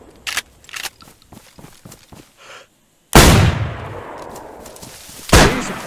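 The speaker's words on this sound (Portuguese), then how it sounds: "o cara tomou dois tiros, vocês viram?" Gunfire in the video game DayZ: two sharp, loud shots, one at mid-clip with a long ringing tail and another near the end, following a stretch of quieter footsteps and small clicks, with no talk.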